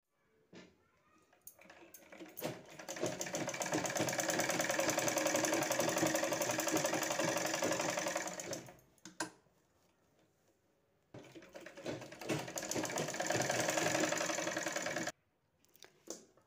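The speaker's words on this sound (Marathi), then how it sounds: "असं आपल्याला शिवून घ्यायचं आहे हे दोन्ही साईड." A sewing machine runs in two long steady bursts, stitching the sides of a box bag, close and loud with a rapid mechanical chatter, separated by a short pause and a brief stop at the end.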